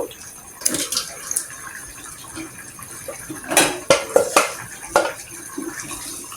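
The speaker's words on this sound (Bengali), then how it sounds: "এখন আমি এই পর্যায়ে মাংসটা দিয়ে দিব।" Chicken pieces tipped into a cooking pot of boiled papaya and spices, with several clattering knocks and scrapes of metal and utensils against the pot, close and fairly clear with quiet gaps between.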